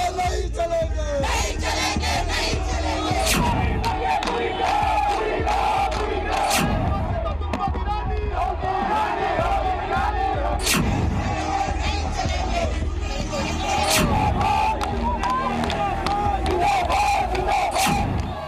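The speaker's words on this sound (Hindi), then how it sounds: "भारत माता की जय के नारे गूंज रहे थे।" A crowd of thousands fills a Shimla street in protest against a mosque, chanting slogans in loud, continuous massed voices with rising shouts and repeated rhythmic cries throughout.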